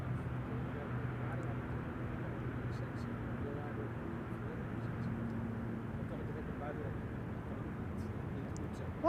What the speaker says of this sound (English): I think that's the A400 we're hearing that Stefan was referring to.